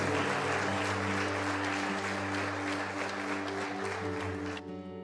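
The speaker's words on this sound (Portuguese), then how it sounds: "Você pode aplaudir a Ele? Aplauda Ele! Aplauda Ele!" Church congregation applauding during a sermon, a dense sustained wash of clapping with a steady sustained musical tone underneath, cutting off abruptly near the end.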